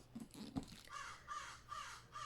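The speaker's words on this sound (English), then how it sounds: "Don't mind the crows." Crows caw outdoors, a few faint, somewhat distant harsh calls repeating in a loose rhythm after a couple of soft knocks, with no voices.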